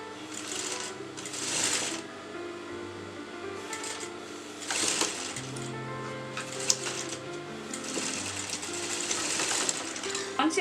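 A sewing machine stitches the lined shoulder seam of a kurta in several bursts of rapid mechanical whirring with short pauses between them, close up and fairly loud.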